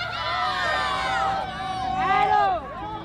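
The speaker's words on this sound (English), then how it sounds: "there's cheering" High school students cheering at a protest outside Green Central High School, a dense crowd of young voices whooping and shouting together, loud and close for several seconds.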